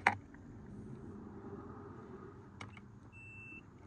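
A short sharp click followed by brief electronic beeps from a multimeter in continuity mode, including a thin steady high tone near the end, over quiet room noise.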